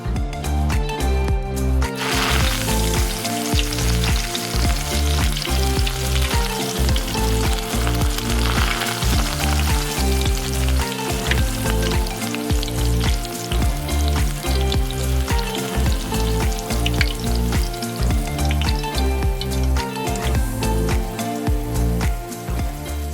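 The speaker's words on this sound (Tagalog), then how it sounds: "Let the chicken cook and brown nicely." Chicken fries in hot oil in a pan over medium heat, giving a loud, steady, crackling sizzle that carries on without pause, with soft background music underneath.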